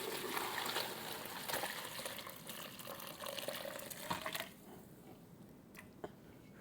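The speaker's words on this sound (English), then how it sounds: "And now I'm going to pour this carefully through my colander." Cooking liquid from a pot of chicken for a Greek feast is poured through a colander, a close, continuous splashing rush that thins to a quieter trickle and drips near the end.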